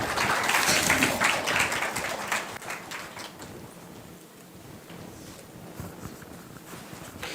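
Audience applause at a women's summit, a dense wash of clapping that is loudest at the start and then thins into a steadier, softer patter across the room.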